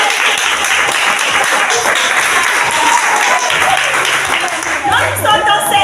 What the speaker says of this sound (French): vous allez acclamer très fort le Seigneur